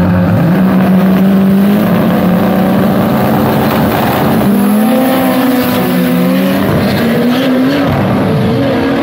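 Chevette OHC race car on a drag strip, its engine droning at high revs and then shifting and climbing again, loud and continuous, with a second engine note overlapping at times.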